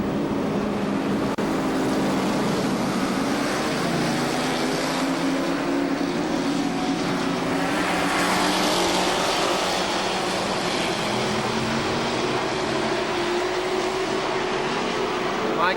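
Legends race cars roar around KilKare Speedway in a steady, continuous engine drone with rising and falling pitch as the pack passes, heard from trackside at moderate distance.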